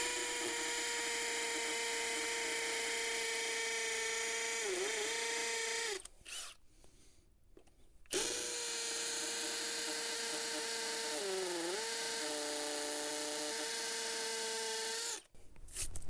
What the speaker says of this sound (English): hammer drill on.